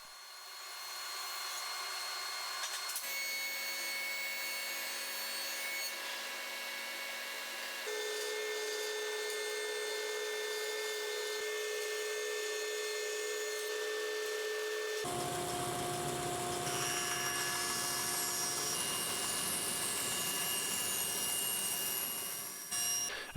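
A power tool cuts lumber pieces to width in a woodworking shop. The motor whines steadily at a low level and shifts pitch as each cut starts and ends.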